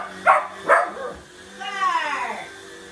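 Two sharp barks from a nearby dog at a running vacuum cleaner, then a drawn-out whiny, yowling bark with the vacuum's low mechanical hum underneath.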